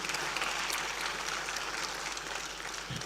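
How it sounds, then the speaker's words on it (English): Steady, dense clapping from a crowd at a memorial service for Hon. Konzollo Munyao in Nairobi, holding an even level through the whole stretch with no voices on top. "Let's clap for this young lady."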